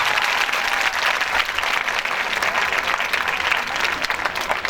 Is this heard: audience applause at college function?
yes